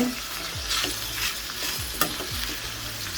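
Ivy gourd (kovakkai) sautéing in a pan for poriyal: a steady broadband sizzle runs throughout, broken by repeated scraping stirs and a sharp utensil clink near the two-second mark, close and moderately loud with no talking.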